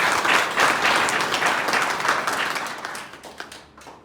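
Enthusiastic applause from a seminar audience at a closing event in Gairsain, Uttarakhand, a thick wash of many hands clapping that gradually thins and fades over a few seconds.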